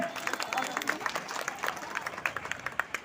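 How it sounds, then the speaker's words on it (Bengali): Audience at an outdoor cultural procession claps in a quick, uneven patter of individual hand claps, moderately near and fairly light, with crowd murmur beneath. "জোরে হাততালি দিন"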